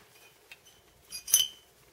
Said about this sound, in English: So now I'm going to get that uh, little piece of glass out of there and just dump it out.